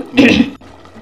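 Tamarind juice poured into a pot of crab curry, a short splashy gush lasting about half a second, close and fairly loud, then quieter simmering.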